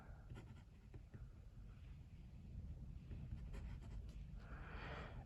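Pilot Custom 823 fountain pen with a broad nib writing on paper: a faint, soft continuous scratch of the nib gliding across the page, with light strokes over a quiet background hiss.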